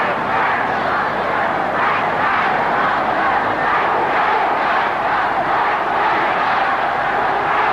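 Football fans of West Ham and Tottenham roar together at a London match, a loud, steady, continuous crowd noise with swelling chants and no break.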